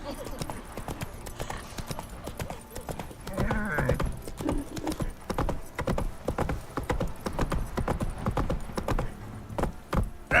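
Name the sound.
horse galloping in video game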